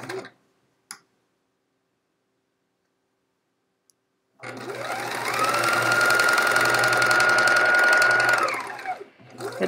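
A sewing machine piecing quilt rows starts up and runs steadily with a whirring, rhythmic hum for several seconds, then slows and stops, after a couple of faint clicks.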